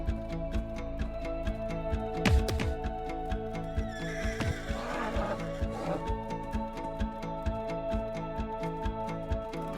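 Horse herd in the Roblox game Sonora, with repeated whinnies and neighs over a steady rhythmic clip-clop of hooves, plus a louder burst of calls midway, all against a looping game soundtrack.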